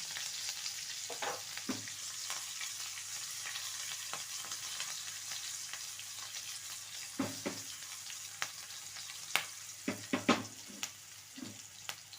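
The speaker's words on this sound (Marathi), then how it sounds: "आता गॅस बंद करते मी झाली आपली फोडणी" Green chillies and curry leaves sizzle in hot oil in a pan during tempering, a steady crackling fry with sharper pops and spatters scattered through, close and clear with no talking.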